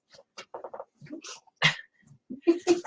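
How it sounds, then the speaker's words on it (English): A dog whimpers and snuffles in short, high, broken bursts, close by and uneven, with a sharp sneeze-like snort and a few brief yips over a few seconds. "I got a dog."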